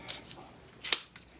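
Blades snip a carrying sling off an old, rusty CVA Optima muzzleloader in a few quick, close, crisp cuts with short pauses between them, and no one speaks.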